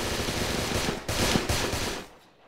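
UMP submachine gun in the Roblox game Underground Wars firing a loud, rapid continuous burst for about two seconds before cutting off.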